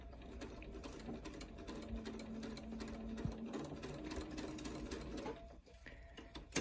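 A sewing machine stitches a scant quarter-inch seam on a quilt block, running in a quiet, steady mechanical whir with fine rhythmic ticking that briefly pauses near the end.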